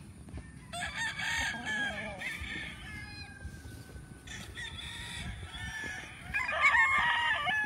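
On a farm, several roosters crow one after another, some near and some farther off, while hens cluck in the background. Someone talks quietly under the birds.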